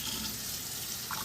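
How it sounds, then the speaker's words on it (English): Water poured steadily into a pot of washed pinto beans, a continuous close splashing fill that runs without pause and no voice over it. "Put you some water in there."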